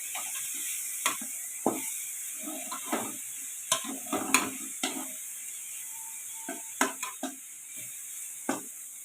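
Grated coconut poriyal is stirred and sautéed in a pan: scattered spatula scrapes and clacks come at an irregular pace over a faint, low sizzle, with no one speaking.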